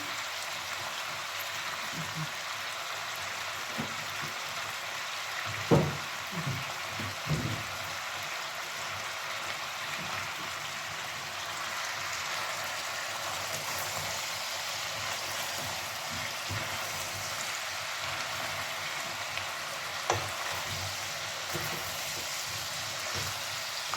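Zucchini, potatoes, sweet peppers and chicken fry in a pan with a steady, hissing sizzle throughout, broken by a few sharp clicks and knocks of a utensil against the pan.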